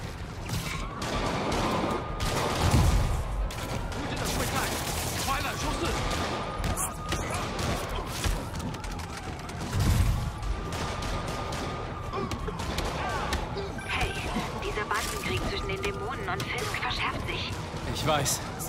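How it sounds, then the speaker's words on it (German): Gunfire in the Spider-Man Remastered video game during a bank robbery, a few sharp bursts over a steady din of game sounds and rising sirens, with someone talking throughout. "Schüsse!"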